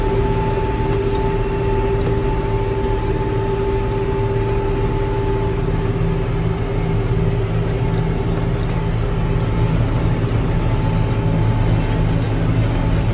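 A hay baler working a field during the first hay cutting of the season drones steadily and loudly, its engine and machinery hum continuous and unbroken throughout, with no talk.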